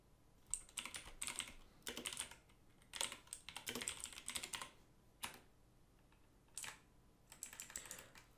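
Typing on a computer keyboard while setting up a Kali Linux server, quiet bursts of rapid key clicks separated by short pauses, close and alone.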